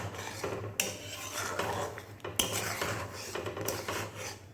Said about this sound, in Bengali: ফ্লেমটা বাড়িয়ে আমি একটু নাড়ছি